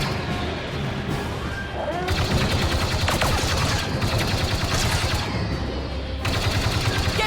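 Battle gunfire in a Star Wars fan film: loud, sustained rapid bursts of blaster fire and impacts, rattling almost without pause, with brief shifts in intensity.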